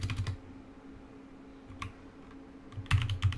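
Someone types a password on a computer keyboard during a WordPress install on Ubuntu: short bursts of close, crisp keystrokes at the start, a lone click midway, and a quick flurry at the end, with no talking.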